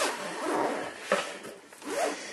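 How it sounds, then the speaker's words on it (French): Zipper on a Thule messenger bag being pulled open, a raspy run of sliding teeth in several close, uneven strokes over about two seconds with no talking. "Et de ce côté-là, vous avez en fait ici une fermeture éclair."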